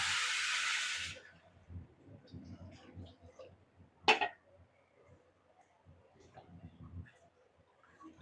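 Water poured onto fried rice for khichuri gives a loud, sharp hiss for about a second, then fades to quiet clinks and soft sizzling under a speaking voice.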